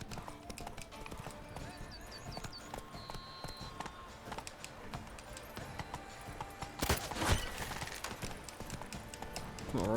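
Horse hooves gallop in The Witcher 3 game: a rapid, rhythmic clip-clop continues throughout, mixed with other game sounds and a brief rushing swell near the end.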